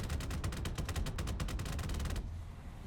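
Rapid automatic gunfire from an XM246 anti-aircraft vehicle in War Thunder rattles in a fast, even burst for about two seconds over a low rumbling background, then stops.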